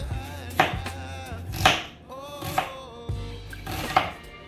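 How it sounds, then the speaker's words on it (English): A knife cuts a purple onion into cubes on a board, four distinct thunking chops spaced about a second apart, close and clear against a soft background hum. "instead of rings, I'm cutting my onion in cubes as well"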